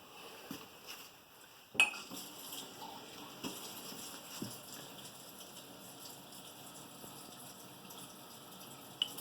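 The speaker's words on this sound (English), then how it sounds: "we're going to rinse it a little bit with some water" Water runs quietly from a tap with scattered splashes and a few light clinks, close by and soft.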